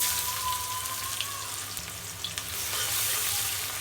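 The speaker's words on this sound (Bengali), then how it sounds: "পেঁয়াজ ভাজা হয়ে গেছে" Onions fry in oil in a kadai with a steady, close sizzle and small pops and crackles scattered through the brief moment.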